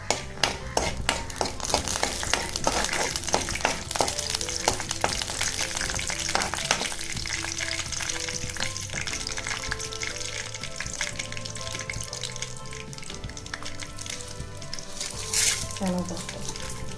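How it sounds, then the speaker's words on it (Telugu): Peanuts frying in oil in a pan, with a continuous crackling sizzle and intermittent scraping and tapping of a spoon stirring against the pan, close up, with a voice speaking over part of it. "కొంచెం ఆయిల్ పోసుకుందాం. ఈ వేరుశెనగ గుళ్ళు కొంచెం వేగిన తర్వాత అప్పుడు పోపులు వేసుకోవాలి."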